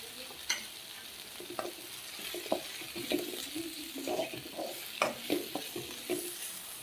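Two spoons of Kashmiri chili powder sautéing in a pan for a coconut-free mango curry, a low continuous sizzle with repeated scraping stirs and clinks of the spoon, close and quiet, no talking.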